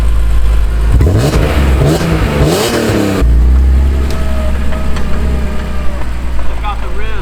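A BMW E46 M3 engine blips and revs hard for a couple of seconds, then settles into a loud, rumbling idle close to the car.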